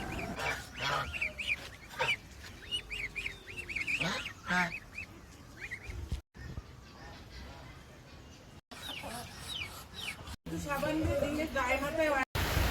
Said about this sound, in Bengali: এদিকে দেখো কত মুরগি, হাঁস দেখো।